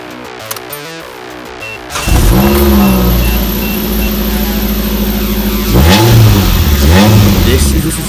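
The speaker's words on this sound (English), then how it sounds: "This is the Suzuki SX4." A Suzuki SX4 engine revs up loud and close after a near-silent start, rising and falling in two sweeping pulls over a steady running drone.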